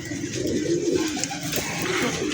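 A highflyer pigeon coos steadily and close by, a low soft throaty call running throughout without any voices.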